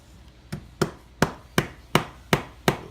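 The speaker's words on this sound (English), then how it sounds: "I like to use my little bar right here, my hammer, just tap them down." A small hammer tapping two metal can halves together while building an alcohol stove, seven sharp evenly spaced knocks speeding up slightly, close and crisp with no speech.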